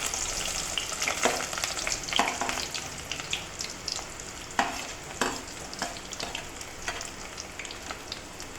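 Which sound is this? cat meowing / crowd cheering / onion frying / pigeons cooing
onion frying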